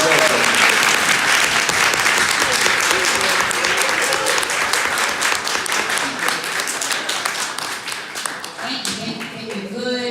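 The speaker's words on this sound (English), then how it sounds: "Let's give her a round of applause." Loud, dense applause from an audience greeting a school board superintendent, steady for most of the stretch before thinning toward the end as a voice begins.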